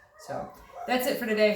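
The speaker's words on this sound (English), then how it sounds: "The dogs are all going crazy." Several farm dogs bark and yip excitedly close by on a homestead, short yelping bursts that overlap with a person talking.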